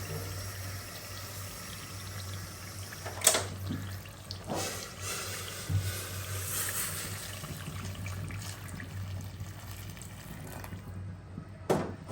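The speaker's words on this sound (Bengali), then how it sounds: "ভালোভাবে কষানো হয়ে গেছে, আমি গরম পানি দিয়ে দিব।" Hot water pours into a pot of browned chicken curry, a running, splashing stream broken by a few metallic clanks near the start and end.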